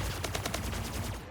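A rapid, steady stream of plasma rifle shots from the Splitgate video game during a pro tournament match, each pulse evenly spaced and loud in a continuous burst lasting about a second.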